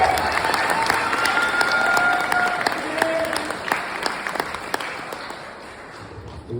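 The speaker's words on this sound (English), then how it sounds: "round of applause for the bride." Wedding guests break into applause for the bride. The sustained crowd clapping has a lively, crisp texture and slowly tapers into sparser individual claps.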